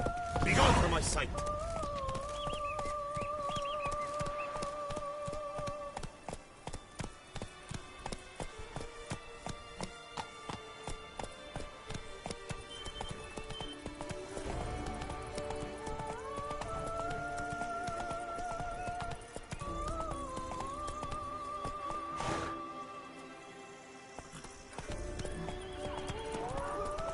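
Roach, Geralt's horse in The Witcher 3: Blood and Wine, gallops with rhythmic clip-clop hoofbeats and occasional neighs and whinnies, layered over a musical game score and a voice speaking.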